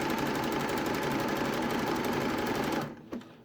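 Sewing machine stitching a hem on a jersey raglan top, with a loud, steady, close motor whir and needle rattle that cuts off near the end, leaving a brief quieter tail.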